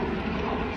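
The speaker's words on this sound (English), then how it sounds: "Anytime I hear those helicopters, I gotta look up." Helicopters flying overhead make a steady, moderately faint rotor and engine drone in a brief stretch with no talking.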